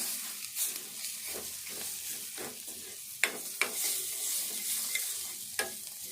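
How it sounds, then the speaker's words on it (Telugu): Onion egg curry in a pan is stirred with soft scraping strokes and a few sharper clinks over a quiet bubbling sizzle, heard up close and fairly faint without any talking. "ఇప్పుడు ఇట్లా నూనె అంతా పైకి వచ్చినాక ఒక్కసారి కలుపుకోవాలి"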